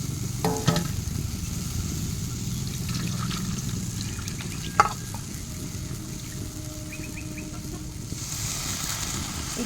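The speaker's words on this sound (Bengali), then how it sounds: "মাটির পাত্রটা গরম হয়ে গেছে উনুনে এই তালের মাঠটা দিয়ে দেব" Palm fruit pulp hits a hot clay pot on a stove and sizzles in a steady close hiss, with a few faint scraping stirs and one sharp knock midway.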